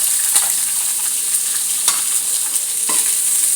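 Shallots and onions sizzle steadily in a hot pan for pork fry, a loud, close, continuous crackling hiss broken by a few scraping stirs.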